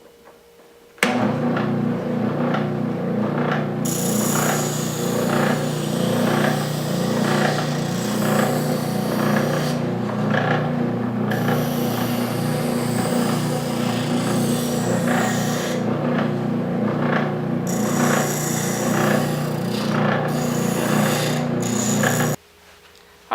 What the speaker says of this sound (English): since I've got a sander here, I'm just going to go ahead and sand it down